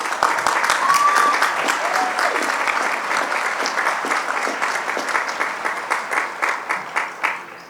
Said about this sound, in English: We can applaud for that right now